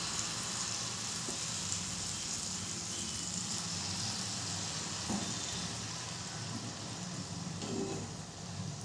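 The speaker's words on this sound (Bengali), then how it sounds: "এরপরে সুজির ব্যাটারটা হাতায় করে নিয়ে আমি এই কড়াইয়ের মধ্যে দিয়ে দেবো" Semolina batter sizzles in an oiled wok, a soft steady hiss of frying that runs throughout at low volume, with a couple of faint utensil taps.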